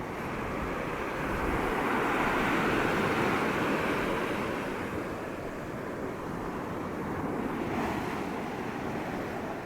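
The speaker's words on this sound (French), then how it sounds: "bien belle, bien blanche qui vient frapper les rochers." Sea waves break against rocks as a continuous broad roar of surf with white foam, swelling and easing gently, mixed with wind noise and heard from nearby at moderate level.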